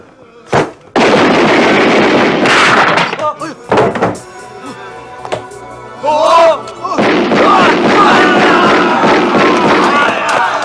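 Gunfire in an action scene from the comedy Fight Back to School: loud, sharp bursts and heavy blasts come in several clusters over ten seconds, mixed with shouting voices and crowd noise.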